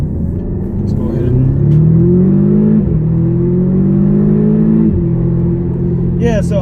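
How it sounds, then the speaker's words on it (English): A 2012 Audi TTS accelerating under automatic shifting, engine droning and rising in pitch, dipping briefly at each gear change, close and loud, with a few faint exhaust crackles near the end. "I definitely am hearing like a little bit of pop coming off the exhaust"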